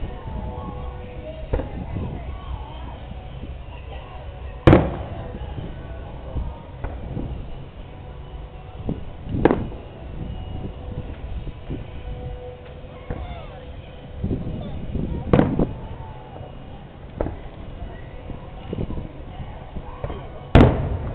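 Fireworks fired from an 8-inch mortar at a July 4th display boom in the distance, several sharp bursts spaced seconds apart over a murmuring crowd and a continuous background hubbub.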